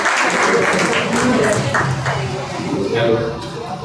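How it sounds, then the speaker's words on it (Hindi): Audience applause for a poet and singer at a Samanvaya cultural program, a dense spell of clapping from a seated crowd, with voices mixed underneath. "तो उनके लिए तालियां प्लीज"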